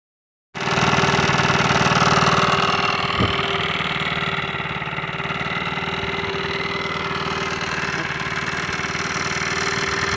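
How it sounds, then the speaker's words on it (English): A Gopher Heaven gopher repellent machine starts and runs steadily, a continuous mechanical engine-like drone with a constant hum and vibration, close and fairly loud throughout. "the next thing I've started using is this Gopher Machine, and I think it's not bad"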